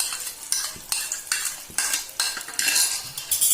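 Egg mixture being stirred in hot ghee in a pan: steady sizzling under a run of loud, regular scraping and clinking strokes of a utensil against the pan, close by and with no talking.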